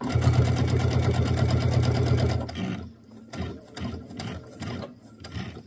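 A sewing machine stitches a quilt seam on a mini quilt, running steadily with a loud, fast, even mechanical buzz for a couple of seconds, then stopping, followed by quieter clicks and handling of fabric.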